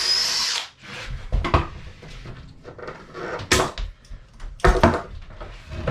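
Power drill driving small pocket screws into wood inside a wooden boat's hanging locker, several close bursts of whirring with pauses and clunks of handling between them.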